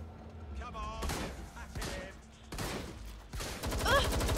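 Gunfire from the video game Watch Dogs Legion, with bursts of shots and impacts in several loud clusters across the moment, mixed with voices talking over the action.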